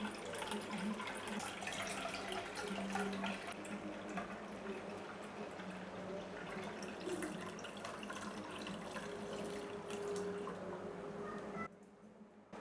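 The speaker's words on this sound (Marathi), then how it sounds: "आता या सरबताला ना आपण गाळून घेऊया।" Fennel sherbet strained through a strainer, giving a steady, continuous trickle and splash of liquid for about twelve seconds. It stops abruptly near the end, with no talking.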